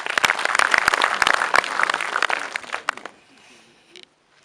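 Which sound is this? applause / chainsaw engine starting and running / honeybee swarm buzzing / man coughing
applause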